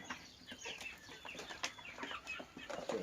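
Chickens cluck softly at feeding time, scattered short calls and light rustling nearby at low volume, with no voices over them.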